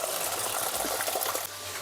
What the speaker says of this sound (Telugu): చూడండి ఇక్కడ కూడా వస్తున్నాయి నీళ్ళు.